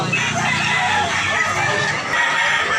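A rooster crows among other chickens on a farm, the calls steady and fairly loud across the whole stretch, with clucking fowl mixed in and no talk over it.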